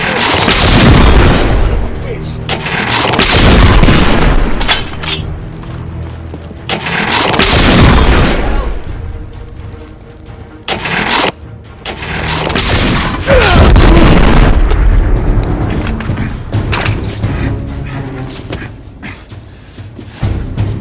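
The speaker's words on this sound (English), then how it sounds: "We are witnessing heavy artillery fire at the moment." Heavy artillery fire in The Order: 1886, loud repeated booms and crashing blasts rolling in waves, with voices talking between and over the explosions.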